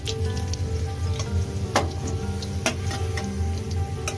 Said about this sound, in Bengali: এবার তার মধ্যে একটু তেজপাতা আর জিরে ফোড়ন দিলাম।